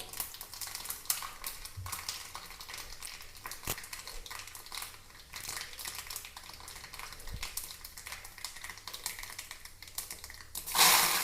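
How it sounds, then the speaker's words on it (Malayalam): Mustard and fenugreek seeds fry in a small clay cooking pot, a faint, steady crackle with scattered soft pops, quiet and close, with no talking. "ഒരല്പം കടുക് പൊട്ടിക്കാം"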